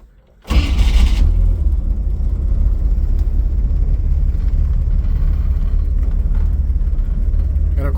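A 1951 Chevrolet panel truck engine cranks and catches after a brief quiet moment, then runs loudly with a deep steady rumble and slight revving, heard close up with no talking.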